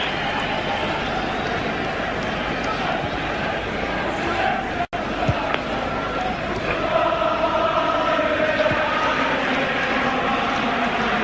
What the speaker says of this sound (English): Liverpool crowd breaking into song again.